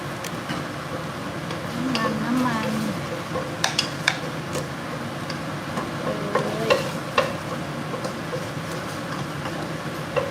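Pork and cauliflower stir-frying in oil in a pan, a low steady sizzle with scattered clicks and scrapes of a utensil against the pan, fairly quiet and without talk.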